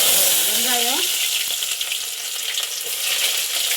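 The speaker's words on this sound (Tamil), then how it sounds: "வெங்காயம் போட்டு நல்லா வதக்கிடலாம்" Onions sizzle and fry briskly in hot oil for a tamarind curry, a steady close crackling hiss with occasional stirring, briefly overlapped by a faint voice at the start.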